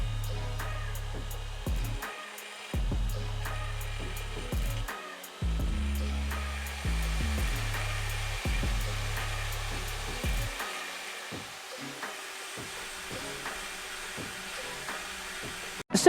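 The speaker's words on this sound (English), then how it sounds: "I'm just gonna grind off the excess material that's still left where the nut was." Grinding tool working off leftover metal where a nut was on a 1996–2000 Honda Civic rear lower control arm, a steady whirring drone broken by short pauses, fairly close, with no voices.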